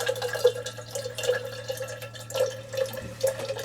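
Water runs from a Polar drinking water faucet in an RV camper into a bottle, a steady close trickle with small splashy drips throughout.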